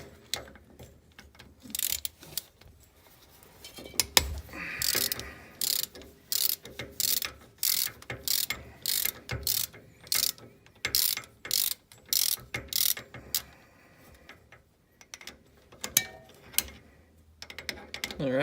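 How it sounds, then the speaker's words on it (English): Rapid bursts of ratchet wrench clicking come from under a Toyota AE86 while its SR5 differential third member is removed, in a cramped space beneath the car, with repeated short ratcheting strokes and brief pauses between them. "The ratchet slipped off."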